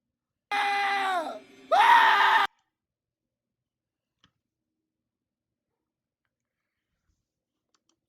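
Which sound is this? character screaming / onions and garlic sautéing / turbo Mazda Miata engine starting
character screaming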